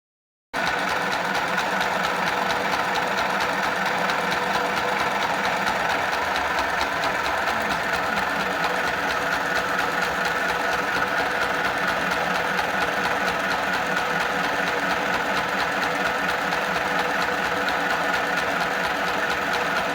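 A mini sewing machine runs continuously after a short silence, with a steady close buzzing motor hum and fast even needle clatter, loud and alone.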